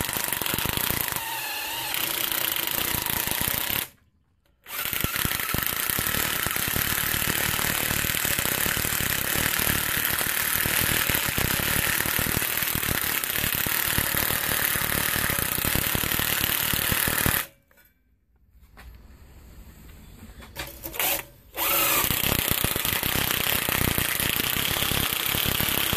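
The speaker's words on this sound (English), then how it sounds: "So I've got this 4-inch wire wheel that fits nice right in this groove here, and I will clean all this out." A 4-inch wire wheel on a power tool grinds loudly and continuously against the door gasket groove of a Wood Gun E100 boiler, with two short pauses where the tool stops and spins down.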